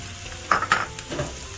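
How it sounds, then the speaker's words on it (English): Onions and garlic sauté in extra virgin olive oil, with a couple of brief, close sizzling bursts and a light stir, then a softer frying hiss that fades. "sauteing some onions and garlic, some chopped garlic, and some extra virgin olive oil"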